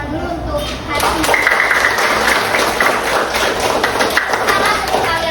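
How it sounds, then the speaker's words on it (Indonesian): A classroom of students applauds at the end of a school arts lesson, with close, loud, uneven clapping that swells after a brief pause and carries on amid some talk and thumps. "Sebelumnya kita beri tepuk tangan dulu untuk hari ini."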